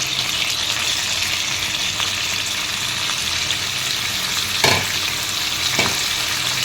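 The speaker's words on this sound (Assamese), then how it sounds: "ইয়াতে এতিয়া মই মাংসখিনি দিলোঁ প্ৰথমতে।" Chicken pieces for a chicken and potato curry fry among softened onions in a pan, a loud continuous sizzle with a couple of brief clatters as the meat goes in and gets moved.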